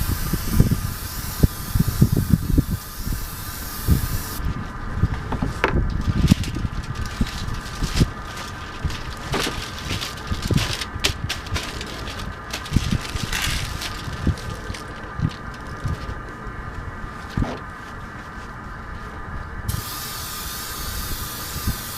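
An Iwata airbrush sprays clear coat in a continuous close hiss lasting the whole stretch, broken by small clicks and handling knocks.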